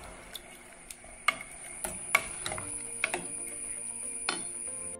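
A lemon pickle with salted lemons being stirred in a pot, with soft scraping and light clinks of a spoon against the pot at irregular intervals, fairly quiet and close.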